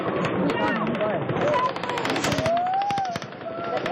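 Rapid automatic gunfire from the Mandalay Bay hotel in Las Vegas crackles in dense bursts through a tense crowd scene, with shouting voices overlapping the shots.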